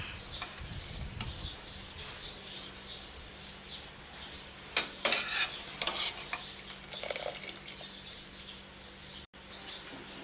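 Homemade potato chips fry in oil in a wok with a steady close sizzle and scattered crackles. Faint stirring and scraping come and go.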